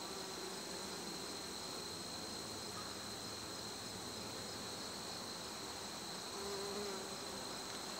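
Bees buzz around an open beehive during a spring inspection, a dense, steady drone of many insects with a few louder fly-bys close to the mic, continuous and free of speech.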